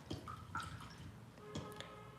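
A paintbrush used for acrylic painting is rinsed in water, giving faint, sparse drips and small splashes in a quiet room.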